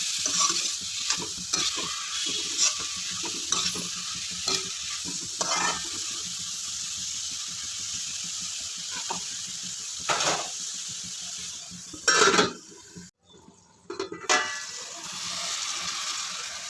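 Broad beans cook in a pan on a low flame, a steady close hiss and sizzle with occasional sharper spits and clacks, briefly dipping quiet near the end before the sizzle resumes, no talk.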